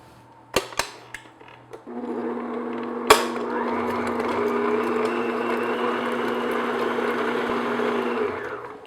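An electric mixer beats unsalted butter on medium speed, starting after a few sharp clicks and knocks and then running as a steady, continuous whirring drone, close and even, until it stops near the end.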